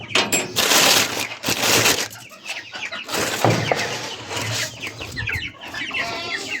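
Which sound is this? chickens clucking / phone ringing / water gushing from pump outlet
chickens clucking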